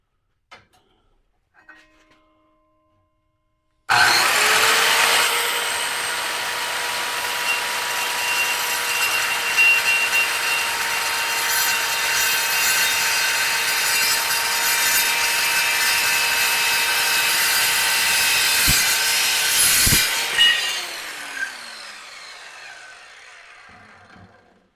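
New saw slicing through 1/8 by 1/8 by 1.5 inch steel angle iron, one continuous loud grinding cut that starts abruptly, holds steady for about sixteen seconds with a high whine, then stops and winds down; a few faint clicks come before it.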